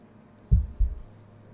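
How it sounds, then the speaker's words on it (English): Two low, thudding heartbeat pulses in a lub-dub pair play faintly in the RoboCop video game demo, standing alone over a quiet hum with no talk. "Wait, why do I hear a heartbeat?"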